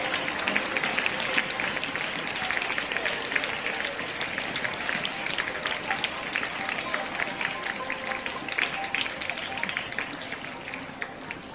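Thin, scattered applause from an audience at a stage event with a mathematics performance, a steady patter of light claps lasting throughout without strong bursts.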